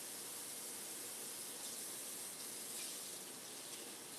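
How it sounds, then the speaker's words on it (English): A kitchen faucet runs steadily while a spatula is rinsed under the stream, a constant, soft hissing wash of water with no pauses and no voices. "I'm gonna get this spatula washed up."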